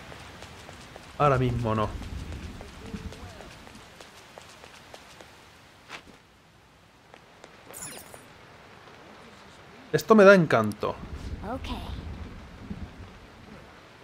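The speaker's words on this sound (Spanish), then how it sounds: "Y está lloviendo" Rain with occasional thunder in the video game Persona 5, a steady soft patter running under the whole stretch while someone talks in Spanish in two bursts.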